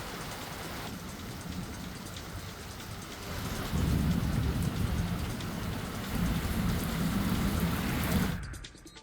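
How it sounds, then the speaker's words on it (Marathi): Heavy unseasonal summer rain pours down in Hingoli, a steady dense hiss of drops striking the ground that grows louder midway and stays close and continuous with no voices, then stops abruptly just before the end. "पाऊस बरसला"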